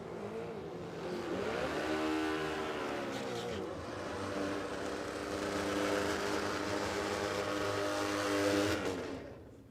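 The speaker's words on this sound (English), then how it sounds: "These drag bikes look like the business. Some very cool bikes coming out here at Warwick Dragway" Drag bikes in a bracket race at Warwick Dragway, Australia: loud, sustained motorcycle engine roar with rising revs and multiple harmonic sweeps as bikes launch and run, continuous for nearly ten seconds before cutting off.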